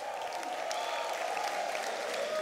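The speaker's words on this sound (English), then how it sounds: "A round of applause for our panelists." A seated audience at The Agenda 2018 gathering claps for its panelists, a dense, steady wash of applause holding evenly for the full stretch with a faint sustained tone underneath.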